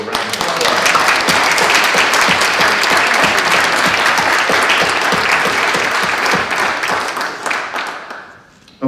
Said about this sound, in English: So if you join me for a little round of applause.